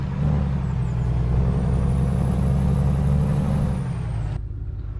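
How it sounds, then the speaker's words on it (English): The engine of a Mack Titan truck in Euro Truck Simulator 2 roars with a steady, loud, deep drone, close and continuous, before cutting off near the end. "But listen to this engine roar."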